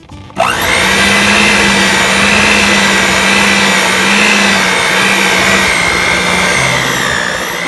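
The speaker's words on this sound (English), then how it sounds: "I'm going to beat this on slow because I don't want it to poof all up on me until it's nice and well combined." An electric hand mixer runs steadily on its low speed, beating a crumbly no-bake Oreo peanut butter cream pie filling, a continuous loud motor whine with a faint drop in pitch near the end and no talking.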